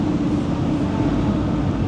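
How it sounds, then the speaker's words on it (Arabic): An Algiers metro train approaching the station makes a steady, low rumbling drone, loud and unbroken throughout, with no voices. "المترو بتاعنا، سامعين صوت اهو، المفروض انه جاي"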